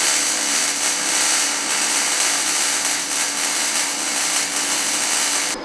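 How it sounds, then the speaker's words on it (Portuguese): MIG welder laying a long bead on a motocultivator blade made from scrap steel, a continuous loud crackling hiss held steadily throughout, close and alone. "É muita solda. A gente faz na MIG, é rapidaço"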